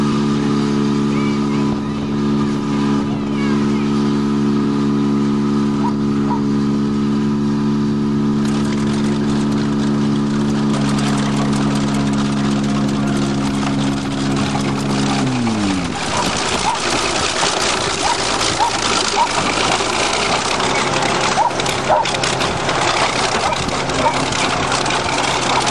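A 20-ton bulldozer crushes a running Ford Topaz. A steady droning engine tone runs first, then its pitch drops and gives way to loud crunching, grinding and rattling noise, with voices at times underneath.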